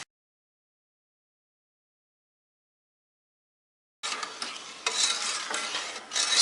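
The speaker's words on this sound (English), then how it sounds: "stir the mixture over medium heat until the sugar dissolves" Sugar syrup is stirred in a small or medium pan over medium heat, a close scraping swirl with faint sizzle that starts abruptly after silence.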